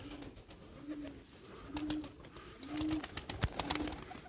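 Pigeons coo in a repeated low rhythmic pattern, roughly five soft coos spaced about a second apart, alongside a few sharp clicks and flutters from the birds, all without speech.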